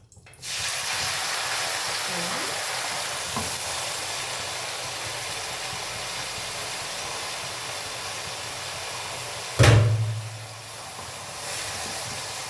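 Washed gongura sorrel leaves drop into hot groundnut oil with a sudden loud hiss that fades into a steady sizzle, heard alone after a constant background hiss.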